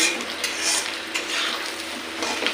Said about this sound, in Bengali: তারপরে পেঁয়াজটা একটু লাল লাল করে ভেজে নিয়ে আবার সব মিশিয়ে ভাজছি